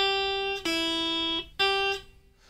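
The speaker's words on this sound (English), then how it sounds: "I've actually pulled the string off the fretboard." An electric guitar string is pulled off the fretboard, pulling straight down from the neck, giving a sustained ringing note that is twice re-struck sharply and then cut off, heard alone and close.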